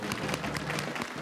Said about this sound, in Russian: Мы аплодируем.